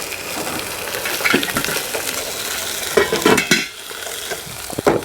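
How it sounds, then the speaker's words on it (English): Cooked noodles being strained at a campsite, a steady hissing rush of draining water with a few clinks of pot and utensils, close and fairly loud, no talking. "Alright, I'm going to strain those noodles."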